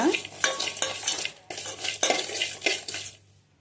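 A spoon scrapes and stirs repeatedly through peanuts and sesame seeds roasting in a metal pan, rhythmic rattling strokes with a faint sizzle, no talking.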